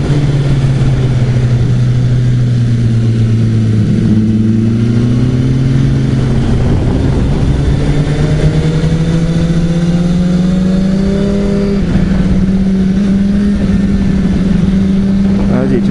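Motorcycle on a race track, its engine droning loud and close throughout with pitch slowly climbing as it accelerates, under a voice talking.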